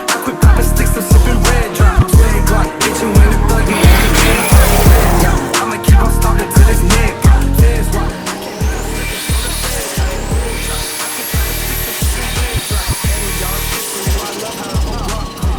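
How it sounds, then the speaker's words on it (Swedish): A BMW E30 316 project car driving hard, its engine revving loud and close in repeated pulses with gear changes, tire squeal and skids, and brief whining sweeps overhead. "Bilen är som sagt en BMW E30 316 som inhandlades"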